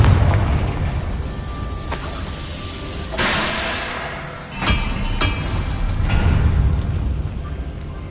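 Confringo fire spell explosions in the video game Hogwarts Legacy: several sharp blasts burst out over a loud, dense rumble of game ambience, with no talking.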